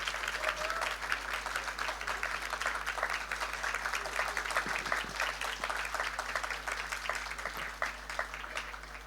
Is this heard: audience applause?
yes